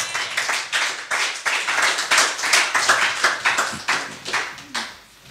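A church congregation claps rhythmically in steady, fast beats, a dense, fairly close crowd sound that runs for about five seconds before tapering off at the end.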